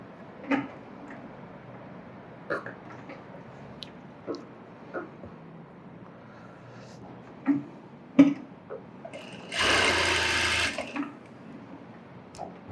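Scattered light clicks and handling noises lead into one short, loud run of a sewing machine stitching a blouse, which stops after about a second.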